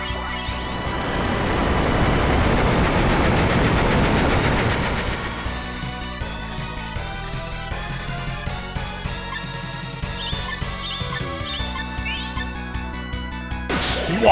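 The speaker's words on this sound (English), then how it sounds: "Water cannon." A water cannon attack in the video game SaGa Frontier bursts out as a loud rushing, crashing blast for several seconds, then gives way to a ringing, chiming game-music tail.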